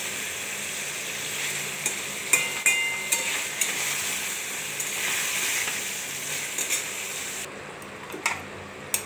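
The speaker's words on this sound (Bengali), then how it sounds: "এবার কষাবো, একটু আরেকটু কষিয়ে" Egg curry with potatoes being stir-fried in a pan, a steady sizzle running throughout with scattered clinks and scrapes of the spoon against the pan, close and moderately loud, with no voices.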